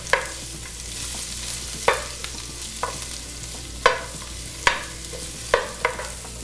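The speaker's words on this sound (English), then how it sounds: "Going to give that a saute around the pan." Sliced onions sauté in a pan for a Moroccan seafood dish, a steady sizzle broken by about eight sharp scrapes and clacks of a utensil stirring at an uneven pace.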